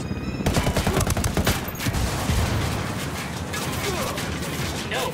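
Sniper gunfire in Ghost Recon Wildlands comes as a dense, loud volley of sharp shots and cracks that fills the clip, with heavy combat noise throughout and some voices mixed in.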